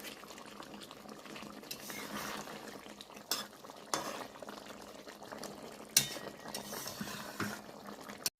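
Shimul tengra fish curry being stirred in a pot after a sprinkle of garam masala, with a steady bubbling simmer and soft scraping of a spoon against the pan, broken by a few sharper knocks of utensil on metal.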